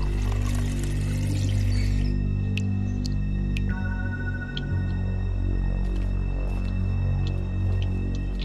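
Water pouring from a kitchen tap in The Wolf Among Us, a steady liquid rush over a low hum that stops partway and leaves only quiet ambient tones.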